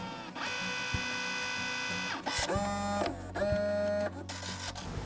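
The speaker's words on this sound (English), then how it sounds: "it's actually going to come from my Brother printer, wirelessly printing here." A Brother printer runs a wireless print job, its mechanical whirring and feeding motor rising and pausing in steady stages, with distinct tonal drive whines, loud and close with no talking.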